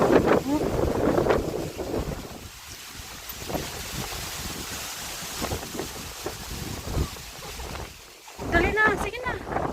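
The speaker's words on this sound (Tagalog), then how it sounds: "Yung hangin, tapos yung mga alikabok." Gusty wind buffets the microphone at an outdoor public market, a steady rushing roar with stronger bursts near the start and end, while people talk nearby underneath it.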